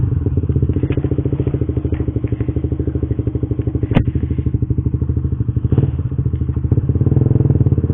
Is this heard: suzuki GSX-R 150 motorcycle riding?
yes